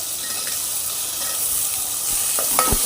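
Chopped vegetables sauté with garam masala for pulao, a continuous close sizzle and hiss with a few soft stirring scrapes near the end.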